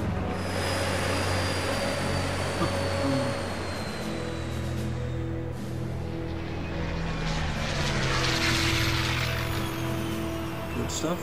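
A propeller plane flies by in the adventure game Secret Files Tunguska, a steady droning engine hum with layered tones, holding at moderate loudness and swelling slightly toward the end.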